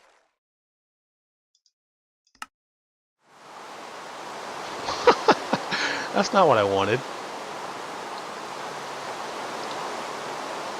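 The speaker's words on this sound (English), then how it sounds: "It starts to rain" Steady broadband hiss of rain starting up in a block-building video game, rising suddenly from near silence after a single click and continuing evenly; someone talks briefly over the onset.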